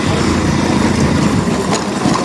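Motorbike engine running steadily while riding, a close, continuous drone with a rough low rumble and no pauses or voices.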